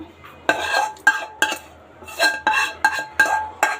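Mango pulihora rice with ghee stirred in a metal pan, a spoon scraping and clinking against the sides in an uneven series of close, bright strokes with brief pauses, no voices.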